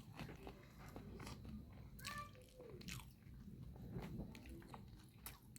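Close, wet chewing and biting of prawn pulao with large lobster prawns, soft crunchy mouth sounds repeating steadily, with a few brief voices in the background.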